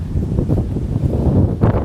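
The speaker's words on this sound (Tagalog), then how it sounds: "Grabe ang lakas ng hangin." Strong wind gusting around a tent at a mountain campsite, a steady broad roar that swells near the end, close and loud with no talking.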